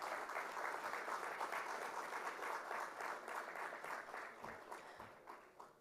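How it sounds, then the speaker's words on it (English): An audience at the India INX launch of Sensex futures and options contracts applauds dignitaries taking the stage, a steady round of clapping that gradually tapers toward the end. "Let's welcome all of them with a round of applause"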